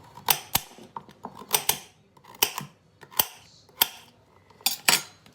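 A knife chops through a sweet Vidalia onion on a cutting board in a home kitchen, giving a series of sharp, irregular close thunks and clicks with brief pauses between cuts, no talking.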